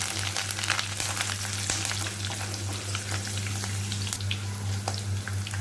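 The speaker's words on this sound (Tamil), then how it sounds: "இப்போ பச்சை மிளகாய், கொஞ்சம் கருவேப்பிலை போட்டு இதை நல்லா ஃப்ரை பண்ணிக்கிறேன்" Green chillies and curry leaves fry with grated coconut in a pan, giving a constant close sizzle with scattered crackles over a low, steady hum, with no voices.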